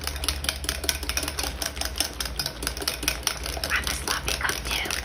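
Whisking a taffy apple salad mixture in a bowl with a whisk, giving a fast, steady run of close clicking and tapping strokes against the bowl for several seconds, with no talk.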